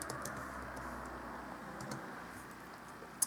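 Typing on a computer keyboard at home, faint scattered key clicks at a modest pace, with a couple of slightly louder taps at the end.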